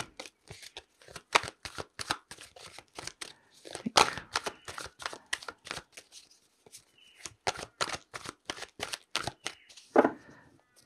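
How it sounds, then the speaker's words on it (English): A tarot card deck is shuffled repeatedly, rapid crisp riffles and slaps in an irregular rhythm, close up with no talking. "I'll give it a good old shuffle, get some Libra energy into this deck"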